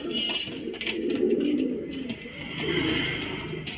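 Pigeons at a loft give low, throaty coos in two swelling phrases, close and fairly loud, over faint background chatter and rustling.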